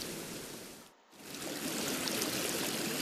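A river runs over stones in a stream where insects are dislodged from the rocks for sampling; the steady close rush of flowing water briefly dips near the start and then swells back, with no voices.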